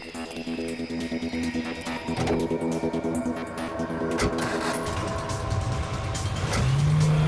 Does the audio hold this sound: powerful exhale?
no